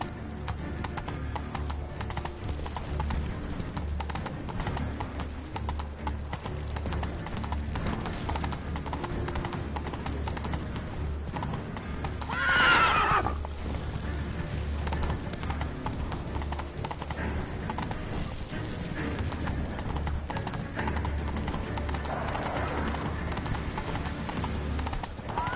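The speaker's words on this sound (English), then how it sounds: "Run, Roach" A horse gallops in the video game Witcher III, its hoofbeats a steady, rapid clip-clop over a low rumble, with one short whinny midway.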